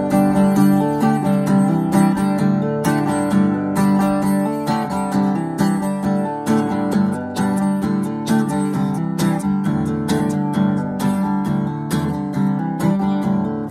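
Acoustic guitar strummed in a steady rhythmic pattern for a country song, full chords ringing loud and close with no voice over them.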